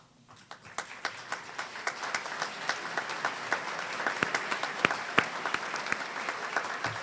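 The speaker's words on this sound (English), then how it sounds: "I'd like to have us give each of them a round of applause" An audience at a community college commencement claps for graduates, starting with a few scattered claps, then swelling into sustained applause with sharp individual hand claps standing out against the crowd.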